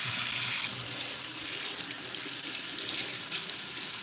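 Water runs steadily from a tap into a sink, a continuous broadband rush that stays loud and fairly even throughout, with no voices.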